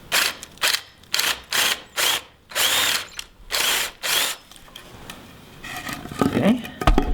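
A power drill with a 1/2 inch bit bores a screw-head recess in wood set against concrete, running in about eight short, loud bursts with brief pauses between them before the noise tapers into softer handling sounds and faint talk.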